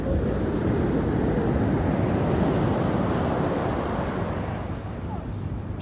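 Ocean waves wash up the beach at Coogee Beach, Sydney, a steady loud surf roar with wind buffeting the microphone throughout.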